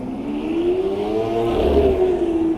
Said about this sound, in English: I don't know if he's going fast or if the car's just really loud.